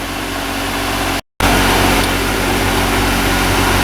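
Chevy Impala engine running steadily with its throttle propped open, a loud, constant mechanical drone with a brief dropout partway through, no voices.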